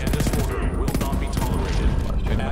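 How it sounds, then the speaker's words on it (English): Light machine gun firing rapidly in the shooter game Homefront: The Revolution, a dense, loud, continuous burst of close gunfire with a voice talking over it. "Gun. LMG, baby."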